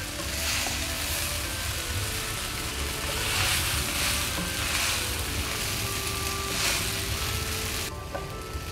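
Chicken vegetable spaghetti tossed with masala in a hot pan gives a steady, close sizzle and frying hiss that runs unbroken, with faint scraping of the stir and no voices.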